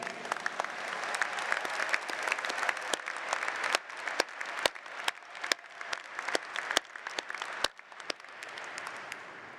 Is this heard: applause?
yes